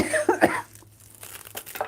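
Two or three short, harsh coughs close by, followed by quieter rustling and crinkling noises.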